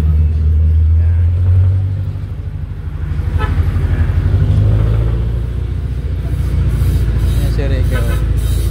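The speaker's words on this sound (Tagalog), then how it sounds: "Nakasakay na kami sa jeep." Riding a jeepney in Bacon, Sorsogon brings a loud, continuous engine rumble and road noise, with a few horn toots near the end and people talking.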